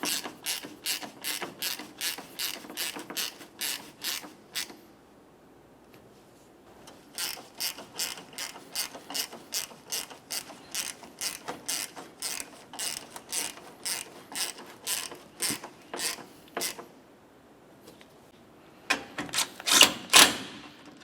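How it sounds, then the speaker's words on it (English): A hand ratchet tightens the bumper corner bolts on a 2009–2010 Pontiac Vibe, with long runs of rapid, close clicking broken by short pauses and a louder final burst, no talking. "Now we'll tighten each of these corner bolts."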